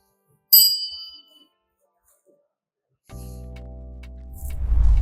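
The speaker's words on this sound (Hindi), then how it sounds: "ये जो छोटी छोटी घंटियां हैं जो मंदिर का इफेक्ट और ऐड कर रही हैं" A small temple-style brass bell hangs in a home interior. It gives a single bright strike that rings out and fades over about a second, and after a pause a low, steady humming tone sets in.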